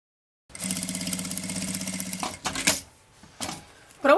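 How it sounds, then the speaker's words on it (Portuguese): A sewing machine topstitches around a fabric bag with a rapid, even mechanical chatter for about two seconds after a silent start, then short pauses and brief bursts of stitching, close by. "agora eu vou rebater uma costurinha meio pé de máquina aqui"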